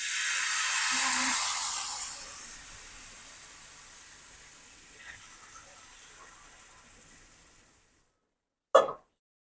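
Mixed-flour dosa batter hits a hot tawa with a loud, broad hiss that fades steadily to a soft, lingering sizzle before going quiet, then a single sharp click.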